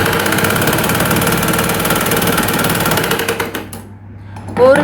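A sewing machine stitches a blouse in a steady, loud mechanical whir, running continuously before slowing and stopping near the end.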